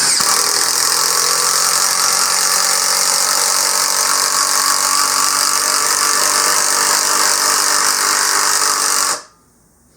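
Hyper Tough 20V brushless impact driver drives a 1/4 inch fastener into a 4x4, giving a loud, close, continuous rattling whine for about nine seconds before cutting off abruptly into near silence.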